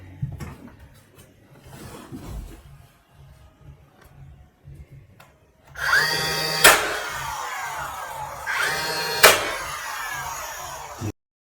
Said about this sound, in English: So I'm continuing sanding back surfaces in this room.